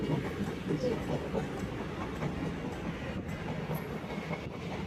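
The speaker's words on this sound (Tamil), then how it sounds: "ட்ரெயின்ல போயிட்டு இருக்கோம்." Rumbling interior of a moving train, a steady low roar with faint rhythmic clatter of wheels on track.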